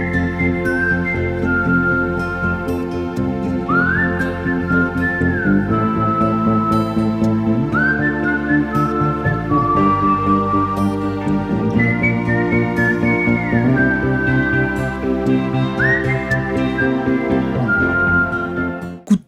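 Whistled melody from the 1979 French film Coup de Tête, a steady tune of clear sustained notes with gliding pitch changes over continuous orchestral backing, loud and upfront throughout.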